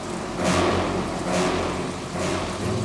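A car engine rumbles and swells in waves as a vehicle approaches on a road at night, steady mid-level noise with rising surges.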